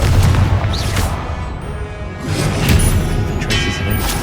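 Confringo blasting spell going off in Hogwarts Legacy, a loud booming explosion with rumbling low-end bursts across the moment, mixed with game sound effects and no speech.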